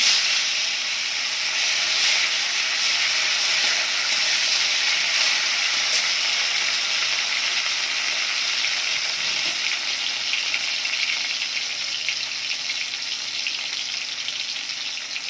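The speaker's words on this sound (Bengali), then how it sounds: "জিরেটা ভালোভাবে ভাজা হয়ে গেলে দিয়ে দেবো কুচানো টমেটো" Loud, continuous sizzling of chopped tomatoes frying with cumin in a hot pan, a bright steady hiss that fades slightly toward the end, with no voices.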